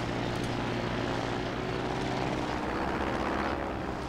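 A player-built aircraft in Trailmakers drones steadily as it flies in to land on a small island, its propeller engine a continuous, even hum with a low buzzing pitch.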